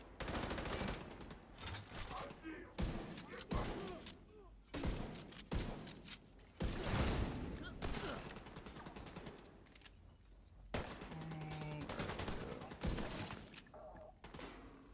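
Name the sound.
gunfire in The Division 2 video game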